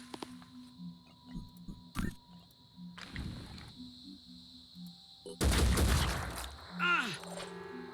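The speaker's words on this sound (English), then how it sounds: "I'm going to shoot the heavy." Gunshots in a video game, a few sharp isolated cracks scattered among game hums and beeps, followed by a louder burst of impacts, moderately close with brief voices in the background.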